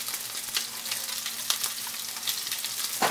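Garlic and green chili sauté in a tablespoon of hot oil in a pan, a steady close sizzle with light crackles and stirring, no voices.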